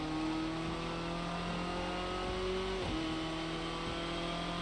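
A Renault Clio Cup race car in Project Cars 2 held at full throttle at Snetterton, giving a steady, loud engine drone that briefly drops in pitch at a gear change before climbing again, with no voices.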